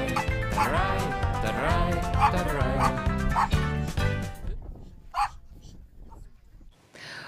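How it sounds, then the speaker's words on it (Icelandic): Farm herding dogs working sheep and horses bark and yip repeatedly with whimpering, close and loud, then thin out into a few sparse yelps with quieter stretches between. "Við erum að smala með hundunum okkur,"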